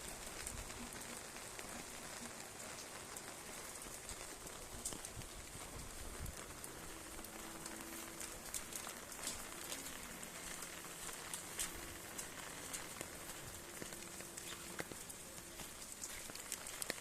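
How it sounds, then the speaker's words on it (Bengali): Rain pours outdoors in a continuous, even hiss. The sound is faint and distant, with scattered ticks and drops and a low hum beneath it. "বাবা কি বৃষ্টি!"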